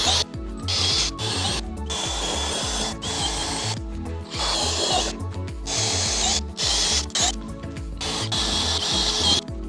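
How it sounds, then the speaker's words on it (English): A power drill with a 5/16-inch bit whirs in repeated bursts, spinning up and cutting, with short pauses between holes while building a Jeep storage platform; loud and close, no talking. "Let's drill some holes."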